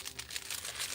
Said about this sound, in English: mix them around in my hand, and then I'm going to shuffle them again